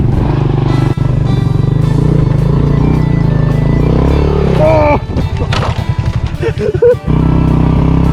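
Motorcycle climbing a small hill in the mountains of Laos, its engine droning loud and close then revving and labouring in uneven bursts, with someone talking over it.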